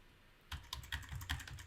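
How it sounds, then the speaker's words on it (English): Keys on a computer keyboard are tapped several times in quick succession after a quiet start, soft close clicks in an irregular rhythm with no talk. "by using the bracket keys on the keyboard, I can make it larger"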